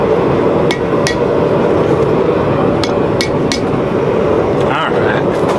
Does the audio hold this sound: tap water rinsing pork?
no